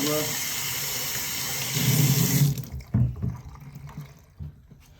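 Water from a hose or tap rinses a motorcycle clean, a loud steady hiss and splash that cuts off partway, leaving softer drips and handling noises.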